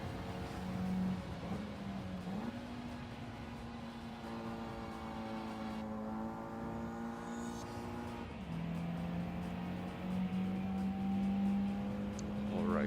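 Race car engines drone and whine in Gran Turismo 7, a steady sustained tone whose pitch climbs and shifts with gear changes, and a drop and recovery around the middle as another car is chased.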